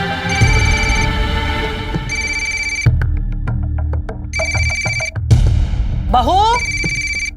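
A telephone rings repeatedly in bursts of electronic trilling, loud and close, with spoken voices in Hindi talking over and between the rings.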